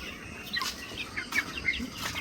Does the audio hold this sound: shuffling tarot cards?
no